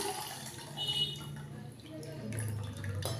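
Tamarind water trickling and splashing steadily through a strainer, soft and close, with faint kitchen clatter.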